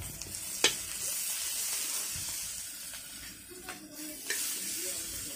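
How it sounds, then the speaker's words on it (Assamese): Onions frying in a wok in oil left over from frying potatoes, a steady close hiss and sizzle with occasional sharp crackles and pops. "আলু ফ্ৰাই কৰা যিখিনি তেল আছিল সেইখিনি তেলে দিয়ে পিঁয়াজটো ফ্ৰাই কৰি আছোঁ"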